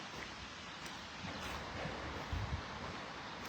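Wind blowing outdoors, a soft continuous rush with a few gentler gusts, fairly faint and steady with no talking.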